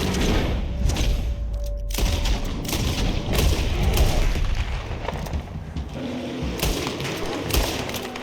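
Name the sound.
gunfire in a video game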